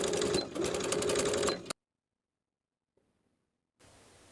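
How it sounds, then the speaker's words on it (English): Sewing machine basting a peplum top bodice seam with a 3/8 inch allowance: a fast, loud mechanical whirr for about a second and a half, then silence, then faint noise. "I'm going to baste in place with a 3/8 inch seam allowance."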